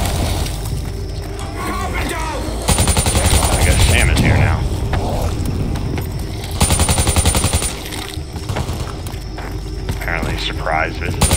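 In the Black Ops III video game, the Chikum CQB burst-fire SMG lets out rapid bursts of gunfire in two clusters over a steady background of game noise, while people talk.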